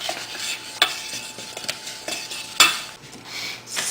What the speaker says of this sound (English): Then, we're going to stir together